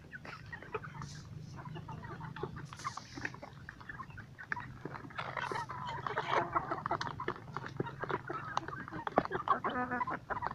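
Free-range chickens on a farm cluck and call continuously, with a rooster-like crow among them and a steady low background hum; the birds sound fairly close, with no speech.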